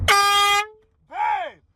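A car horn sounds two separate honks, the first a steady, brassy blast of about half a second, then after a short pause a second, wavering honk, both close and loud with no talking.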